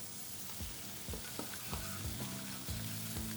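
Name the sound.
butter melting and sizzling with bacon in frying pan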